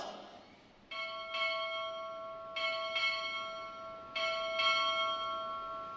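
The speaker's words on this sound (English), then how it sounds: "Time orderly. Strike 6 bells." A ship's bell rung at a U.S. Navy ROTC graduation ceremony, struck in paired rings marking six bells, three clear ringing pairs with long sustained overtones, fairly loud and alone over a faint room hum.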